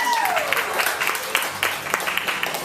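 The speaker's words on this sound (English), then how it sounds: "Let's give her a round of applause." Audience applause breaks out at a storytelling event, a lively spatter of clapping from a modest crowd with a few sharper claps standing out, a faint descending tone fading at the start.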